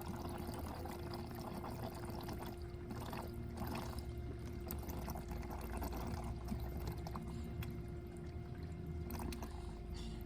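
Water flushes through the heater core of a 2008 Dodge Nitro as a faint, continuous rushing and pouring. It runs steadily throughout, with no voices.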